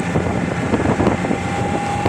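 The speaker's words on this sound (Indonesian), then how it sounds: "kita lanjut perjalanan kembali dengan menggunakan speedboat Ken Bedes, speedboat kayu." A wooden speedboat, the Ken Bedes, travels along a river in Riau, its engine and the rushing air making a loud, steady, unbroken roar with no voices.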